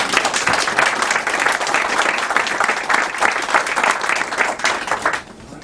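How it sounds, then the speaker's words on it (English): Sustained round of applause from an audience at a wedding gathering, dense steady clapping for about five seconds before dropping off abruptly at the end. "I think that needs a round of applause"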